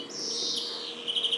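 A canary sings in a long bright trill, close and clear, sliding down in pitch then finishing in quick chirps, with no voices over it.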